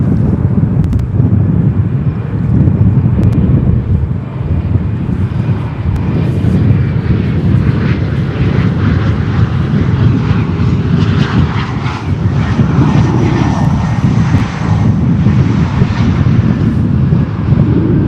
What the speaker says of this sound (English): Air China Cargo 747-400 taxiing over to the cargo ramp